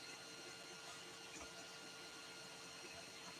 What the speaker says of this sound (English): The 3D printer is making its lovely dulcet 3D printer tones